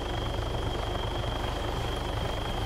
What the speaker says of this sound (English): Can you see the helicopter? I can hear it, but I can't see it.